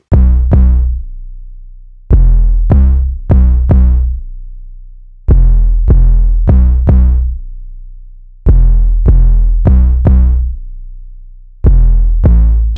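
A deep, booming bass beat of two layered 808s plays alone: heavy, rumbling low notes in a repeating syncopated pattern, each hit ringing out and fading between bursts.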